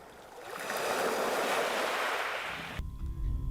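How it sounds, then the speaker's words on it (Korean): Waves surge up and wash back over a pebble beach on Jangja Island, a broad rushing swell that peaks and fades, followed by a lower rumbling surge near the end. "해변가로 연신 오가는 파도와 조약돌이 만나 울리는 소리"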